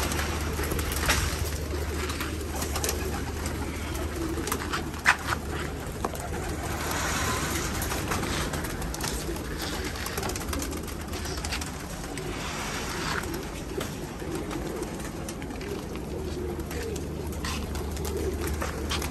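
Homing pigeons coo steadily inside a loft, a continuous layered murmur of bird calls close by with no one talking.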